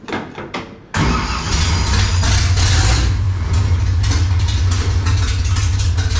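A 1955 Chevy with a small-block V8 cranks briefly, fires up abruptly, then settles into a loud, steady, rumbling idle close to the microphone, with no talking over it.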